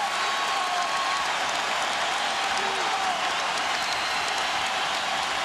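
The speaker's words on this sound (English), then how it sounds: "Crowd on its feet." Dense, loud crowd noise fills an NBA arena as Lakers and Rockets fans rise and cheer, a continuous wash of applause and shouting with no pauses.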